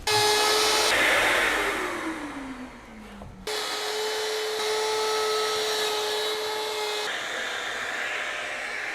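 Power planer taking fine, millimetre-deep passes on wood for a guitar build: a loud close whine that drops in pitch as it bogs down into the cut, then stops abruptly and restarts at full speed, running steadily with no talking.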